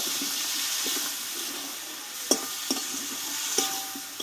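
Potatoes and pointed gourd cook with a little water in a pan, a soft wet sizzle under scattered spatula scrapes and a few sharper clinks as the mix is stirred.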